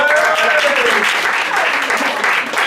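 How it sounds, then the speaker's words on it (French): Audience applause at a bar improv theatre show, steady and dense for the whole stretch, with a few whistles and voices mixed into the clapping. "On applaudit Lucie, on lui dit"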